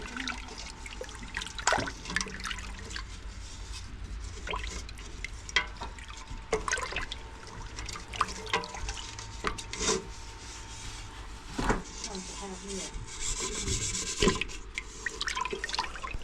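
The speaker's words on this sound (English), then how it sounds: "We gotta stir that all together." Mixture for smoked Indian candy fish jerky being stirred together in a bowl: close, continuous rubbing and scraping with wet sloshing, irregular clicks and knocks from the utensil, fairly quiet, with no talking.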